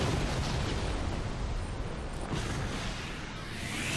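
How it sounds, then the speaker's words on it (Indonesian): A loud, dense explosion from the action game Bayonetta 2 fills the whole span, a broad roaring blast with a fresh burst partway through, heard without talk over it. "Meledak kan gue bilang apa."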